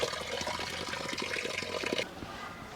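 Water runs from an outdoor drinking fountain in Spain, a close, steady splashing stream that cuts off abruptly near the end, leaving quieter ambience.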